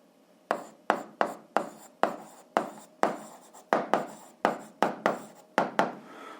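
A pen writing by hand on paper during an algebra exercise makes a quick, close, regular run of scratchy strokes, about a dozen short bursts with tiny pauses between them and no talk over them.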